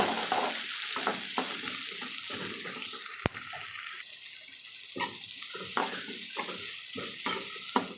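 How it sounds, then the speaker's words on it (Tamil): Chopped onions stirred and sautéed in a pan with golden garlic for a brinjal curry: a steady close sizzle broken by repeated spoon scrapes and clatters against the pan. "வெங்காயம் நல்லா வதக்கிக்கலாம்."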